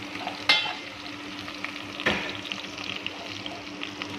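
Plenty of chopped garlic sautéing in a hot pan, a close, steady sizzle with a couple of sharp spatula scrapes and light crackling throughout, no voices.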